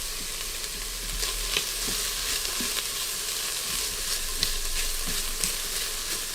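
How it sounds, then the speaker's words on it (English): Garlic sizzles and fries steadily in a hot pot, with faint scraping stir strokes at intervals; the crackle is continuous and close, with no voices. "So I'm going to throw in the garlic. Now, garlic will burn pretty quickly. So you want to get a good toss"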